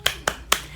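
Three sharp, evenly spaced hand claps from schoolchildren in a first-grade classroom, a quick rhythmic spirit clap, close and crisp with nothing else over it.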